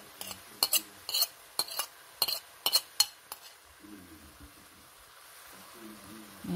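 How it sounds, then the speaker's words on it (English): Grated ginger and minced garlic are stirred in a pan for chicken curry: a quick run of close, sharp spatula scrapes and clinks, then a quieter stretch where a faint voice murmurs in the background. "Then we add the grated ginger and minced garlic."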